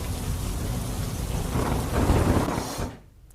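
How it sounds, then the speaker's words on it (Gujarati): Rain falling with thunder rumbling in Surat, a loud steady hiss of downpour over low rolling thunder that swells and then cuts off abruptly near the end. "સચિન, હજીરા, મગદલ્લા સહિતના વિસ્તારોમાં વરસાદી માહોલ સુરતમાં હાલ જોવા મળી રહ્યો છે"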